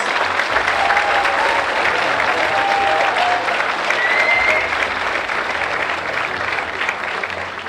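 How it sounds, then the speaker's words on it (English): A crowd at a senior athletic awards ceremony gives a sustained round of applause, dense and steady for the whole stretch, with a few faint whistles rising above the clapping. "How about one more round of applause for these major award winners?"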